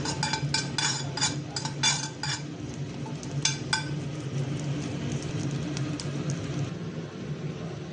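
Ajwain seeds are dry roasted and stirred in a pan, with bright scraping clinks of a spoon against the pan in quick clusters over a low steady background hum, close and moderate in level, no talk.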